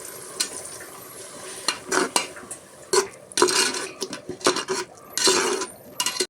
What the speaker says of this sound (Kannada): ಇದು ಹಾಕ್ಕೊಂಡು ಮಿಕ್ಸ್ ಮಾಡ್ಕೊಳ್ಳೋಣ.